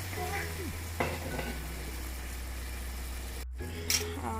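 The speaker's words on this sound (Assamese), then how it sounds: "ইয়াতে মই অকণমান পানী দি দিছোঁ" Chickpea and paneer curry sizzles and bubbles in a pan as a little water is added, with a steady low hum beneath and a few brief clatters and stirs.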